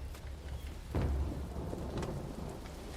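Thunder rumbles and steady rain from a stormy scene in The Haunting of Hill House, a deep roll swelling about a second in, with constant rainfall hissing beneath and no talk.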